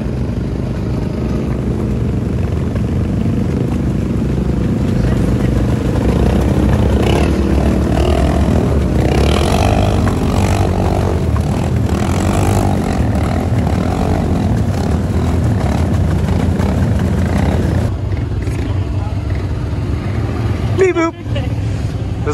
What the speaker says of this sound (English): this thing will just idle through anything